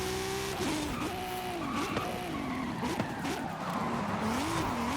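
Race cars in Forza Horizon, engines revving and wavering in pitch with tire squeal and a light impact thud as one car is driven into the side of another, loud and continuous.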